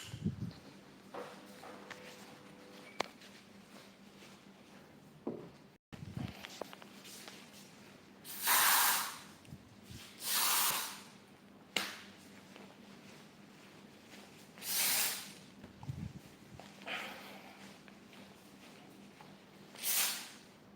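Several loud bursts of hissing aerosol insect spray, each a second or two long, separated by pauses, with quiet rustling and handling noises between them.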